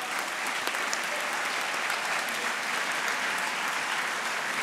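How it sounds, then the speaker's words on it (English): Steady audience applause at a closing plenary session of a youth conference, a dense, even wash of many hands clapping from start to finish with no voices standing out. "Please join us in thanking each of them with a round of applause."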